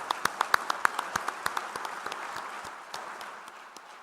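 Applause from an audience at a political address welcoming refugees from Artsakh, a few crisp distinct claps first, then thinner scattered clapping that fades over a few seconds, heard from a moderate distance.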